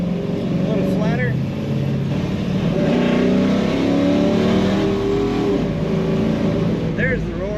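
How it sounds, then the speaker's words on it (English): A 1970 Chevrolet Nova restomod with automatic transmission kicks down, its exhaust roaring loud and close in a sustained rising drone, with a voice talking over it. "Kicking down to make a nice exhaust sound."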